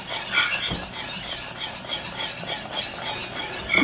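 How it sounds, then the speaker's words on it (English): Shredded cheese is whisked into a boiling cheese sauce in a pot, producing continuous close, bright scraping and swishing strokes with a faint bubbling beneath. "And then we're going to whisk in the cheese."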